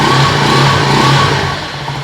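A 2023 Venom SS3 KP mini 150 motorcycle engine running on its first start, a steady mid-pitched idle with a faint rev, close and loud and heard alone.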